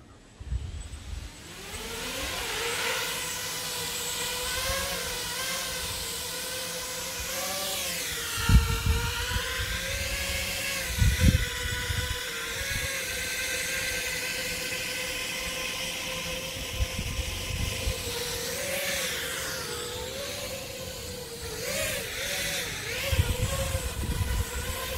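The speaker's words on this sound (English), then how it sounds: "I have my front props turning to each other and the back ones turning outwards." Motors on an FPV freestyle quadcopter with a SpeedyBee frame spin their propellers up and down, giving a whining, rising and falling buzz with several revving surges, fairly loud and close, with no voices.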